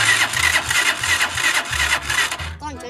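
A motorcycle engine cranks and sputters in repeated bursts, trying to turn over, loud and close.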